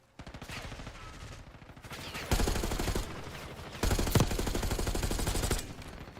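Rapid video game gunfire in sustained automatic bursts, loud and close, with heavier stretches of shooting partway through and near the end.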